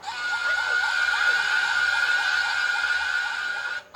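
A sustained, piercing scream in a horror story holds one shrill, wavering pitch for several seconds, loud and close, then cuts off abruptly.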